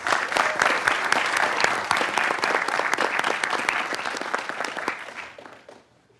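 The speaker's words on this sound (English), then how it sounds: "Give them all another round of applause." A large audience gives students a sustained round of applause at a city council meeting, dense steady clapping that fills the room and fades out at the end.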